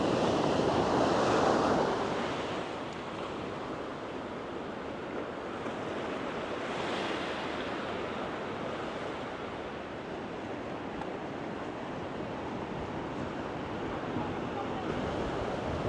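Ocean waves wash onto a beach at Gangneung, South Korea, in a continuous broad roar of surf mixed with wind buffeting the microphone. The surge is loudest at the start, then settles into a steady wash with no voices.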